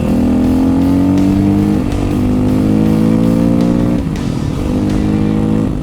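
TW200 motorcycle fitted with a big bore kit, loud and close, its engine note climbing in repeated rising pulls with brief dips between gears, a strong throaty drone throughout.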